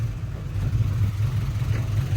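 Heavy Thai dump truck leaving a loaded dirt field, its diesel engine rumbling low and steady with a loud, throbbing exhaust, close by and without talk.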